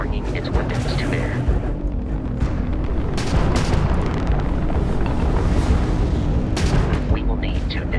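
Crimson Fleet ship weapons fire in Starfield space combat: dense, continuous booming and crackling blasts at steady high level, with brighter bursts near the start, middle and end, and a voice speaking over the din.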